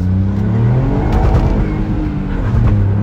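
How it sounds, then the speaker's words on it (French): Ford Fiesta ST Mk8 turbocharged engine revving hard with steady loud drone and rising pitch, close up from inside the car, no talk. "Mais comment ça souffle le turbo!"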